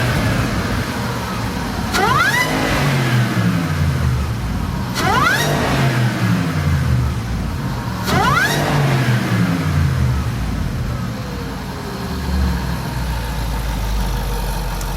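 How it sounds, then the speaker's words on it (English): A Jaguar XJR with a supercharged 5.0-litre engine and cold air intake revs hard in three loud bursts, each rising sharply then falling back to a steady idle, all close and with no talking. "Let's listen to this make some noise."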